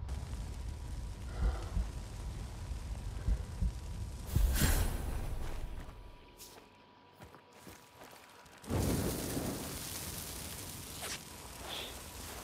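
Bomblets burst in the video game Hunt Showdown, a loud rumbling blast rising abruptly mid-clip, then a second noisy eruption after a brief quieter lull, with scattered thumps and rustles around them.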